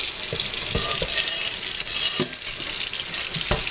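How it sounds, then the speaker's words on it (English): Tap water runs steadily over cast iron cookware in a sink as it is scrubbed clean, with a few soft knocks and clunks of the pan against the basin. "So I'm going to wash it up real good."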